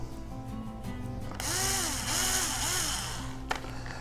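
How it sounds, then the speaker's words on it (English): A power drill whines in three short rising-and-falling bursts, cutting through plastic, with a faint motor hum around it. "And let me drill these other 2 here."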